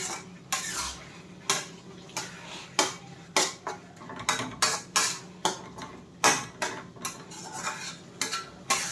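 A ladle scrapes and clinks against a pan while stirring rice and vegetables for Mexican rice, close and rhythmic, about one stroke every half second with no talking.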